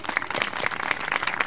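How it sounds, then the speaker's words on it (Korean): An audience at a Suzuki Hayabusa day event at Chupungnyeong Station claps briefly, a dense patter of hand claps with some faint voices underneath. "큰 박수 부탁드리겠습니다."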